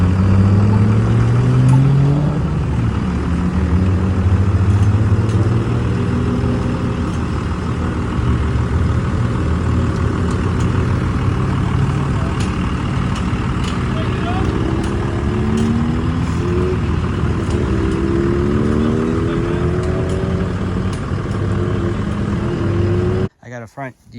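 A 2nd generation Cummins diesel pickup tows a tank slowly at low revs, giving a steady loud drone with rising and falling engine tones throughout, while someone talks over it.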